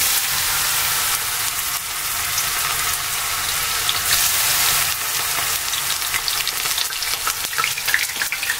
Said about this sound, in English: Going to place the coated pulled mushroom into the hot oil.